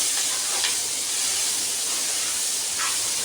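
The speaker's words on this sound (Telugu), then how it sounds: "కొత్తిమీర, పుదీనా, రుచికి సరిపడంత సాల్ట్, ఫ్రై చేసుకుందాం." Coriander, mint and salt fry in a pan for sweet corn rice, making a dense, steady sizzle and hiss close by with a few brief stirring swishes, and no talk.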